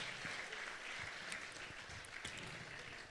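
Audience applause for school teachers at an educational leadership summit: steady, dense clapping from a crowd, sustained and moderately distant throughout, with no voices over it.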